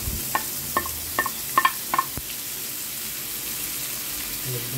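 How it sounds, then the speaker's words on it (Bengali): Chopped onion fries in oil left from frying hilsa fish: an even, close sizzle with a quick series of sharp spatula taps against the pan early on, then steady frying alone. "মাছ ভাজার ওই তেলেই আমি দিয়ে দিব পেঁয়াজ কুচি।"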